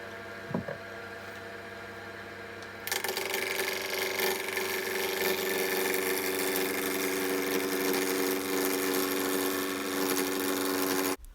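A wood lathe roughs out a Christmas tree spindle blank: a low motor hum runs first, then a loud, continuous rough cutting rasp begins and holds steady until it stops abruptly at the end.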